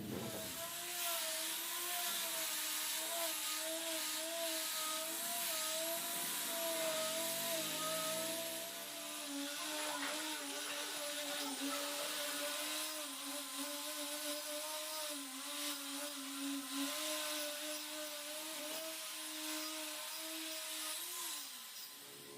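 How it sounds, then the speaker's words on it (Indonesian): Power sander working over a wooden outdoor garden chair, a loud continuous whining buzz that holds steady for the whole stretch, its pitch wavering slightly as the tool moves across the wood. "Setelah dilakukan penghamplasan dan dirasa sudah halus ya lur ya"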